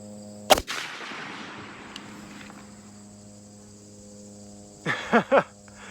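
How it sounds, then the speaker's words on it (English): A Springfield 1903A1 rifle fires one loud, sharp shot at an outdoor shooting range, followed by a long fading echo across the range, then a few brief thumps near the end against a faint steady hum. "Let's try an intentional headshot from 200 yards."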